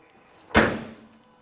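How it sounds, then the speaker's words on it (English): The trunk lid of a 1968 Chevrolet Camaro RS/SS shuts with one solid, close thump and a short fading rattle, and no voices accompany it. "Trunk closes really nicely."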